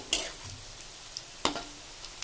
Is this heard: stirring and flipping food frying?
yes